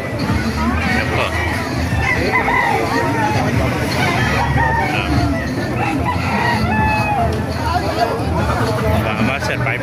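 Roosters crow amid a busy chicken market in Calumpit, Bulacan, with clucking fowl and crowd babble; someone talks over the noisy, close hubbub the whole time.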